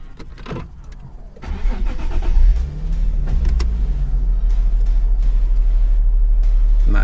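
A 2009 Nissan 370Z with a 6-speed manual cranks over, fires and settles into a deep, loud idle up close, the engine rumbling steadily for several seconds as it prepares to pull away.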